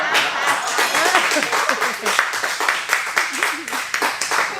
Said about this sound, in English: I did say you would get a roaring applause, right? There you have it.